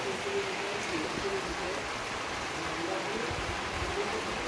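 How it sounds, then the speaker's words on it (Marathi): Steady, soft rain hiss fills the background in mountains near Khed, with a faint voice murmuring underneath. "पाऊस पडतो आहे अजूनही"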